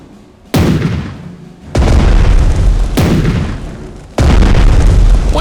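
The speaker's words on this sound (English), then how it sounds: "Use your battleship's artillery to do it." Battleship main guns firing in the strategy game Strategic Mind, four huge booming blasts, each sharp onset followed by a long rumbling decay, loud and close with no talking.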